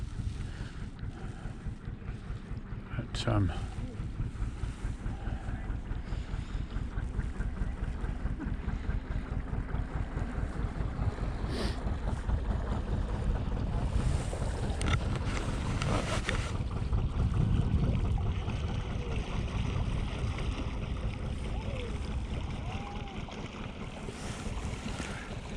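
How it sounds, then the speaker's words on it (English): A canal boat moves slowly down a river, its low steady engine chug running under constant wind noise and lapping water for the whole stretch, with a brief voice near the start. "Oh, I wasn't expecting to see a canal boat coming down today."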